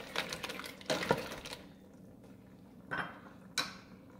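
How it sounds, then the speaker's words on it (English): Mussels being stirred in a cooking pot, with a few separate clattering, scraping bursts of shells against the pot between quiet pauses, close and moderately loud. "Stir the pot a little bit."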